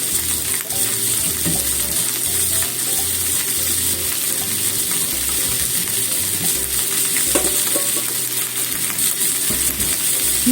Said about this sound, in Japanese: 肉入れてもらっても大丈夫ですよ。 ちょっと炒めますね。